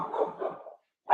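A dog in a crate giving a muffled, drawn-out bark or whine, followed after a short pause by one more brief bark, fairly close and moderately loud.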